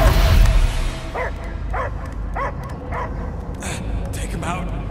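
The space dog Cosmo barks in Marvel's Guardians of the Galaxy video game: a steady run of about six sharp barks spaced roughly half a second apart, set over a dense game score and ambience.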